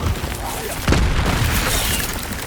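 An Incendio fire spell cast in the video game Hogwarts Legacy bursts out as a sudden whooshing boom about a second in, then trails into a loud roaring rumble; a voice is heard over it.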